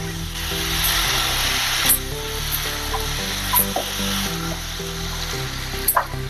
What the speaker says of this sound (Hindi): मसाले लगाकर ऐसे भुनने से टेस्ट बहुत अच्छी आती है अपने सब्जी को